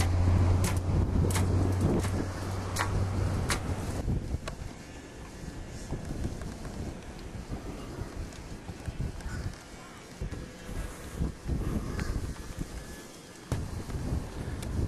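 Wind buffeting a microphone aboard an O'Day 25 sailboat up at spreader height on the mast, a loud continuous rumble with gusty surges, occasional knocks and rigging taps, and a low tonal drone early on.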